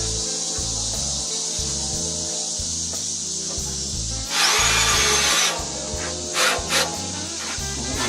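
Power drill driving a screw into the top plate of a portable concession sink, heard as a close, steady pulsing whir with a brief louder hiss partway through and a few small knocks.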